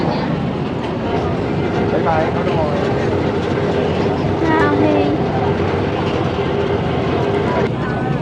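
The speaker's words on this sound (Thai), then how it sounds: "เพราะจุดเนี้ยมันจะเป็นรถไฟที่มีรางเดียว วิ่งสลับกันนี่" A train runs along a single-track railway with a loud, continuous rumble and rattle heard from close by, while people talk over the steady noise throughout.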